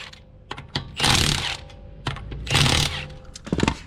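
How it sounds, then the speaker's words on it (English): A power tool spins off lug nuts with a 19mm socket on a raised 2011-2019 Ford Explorer, giving two loud close whirring bursts with clicks and ratcheting clatter between them. "We're just gonna pull these lug nuts off. It's a 19mm socket here."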